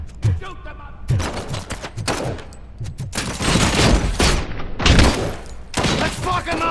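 Video game gunfire crackles in rapid bursts and volleys with heavy thuds, loud and close, while voices shout over the shooting.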